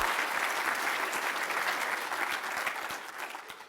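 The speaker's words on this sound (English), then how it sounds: "So let's give them all a big round of applause." An audience at a legislative breakfast gives a steady, dense round of applause, many hands clapping continuously at close range throughout.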